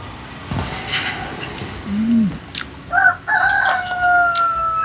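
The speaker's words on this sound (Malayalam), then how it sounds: "കോഴി കൂവുന്നു" A rooster crows in a village setting near a roadside eatery in Trivandrum, one drawn-out call standing clearly above steady background ambience with faint traffic and other birds.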